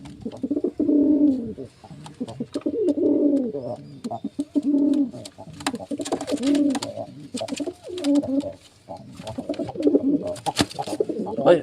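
A newly brought pair of pet pigeons coo repeatedly in close, rhythmic bursts that run throughout, with a few soft chirps and faint background rustling.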